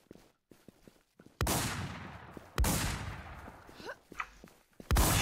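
Sharp gunshots ring out in an online shooter game, a few separate loud cracks spaced across the moment with scattered quieter game noises and footsteps between them.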